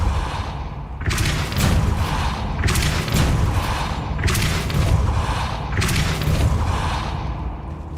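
Depulso force-push spell cast in the Hogwarts Legacy video game: a series of loud, whooshing blasts with deep booms, recurring roughly every one and a half seconds over a steady rumble, with no voices.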